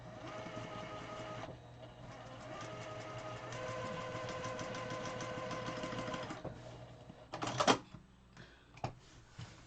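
A sewing machine runs steadily stitching quilting lines through a quilt-as-you-go block, a continuous mechanical whirr that pauses briefly near the start, then stops near the end, followed by a few clicks and handling noises.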